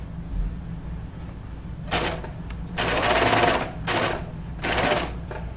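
A sewing machine stitches a knit Lucida dress in several loud, close bursts of rapid needle chatter, separated by short pauses and a low steady hum.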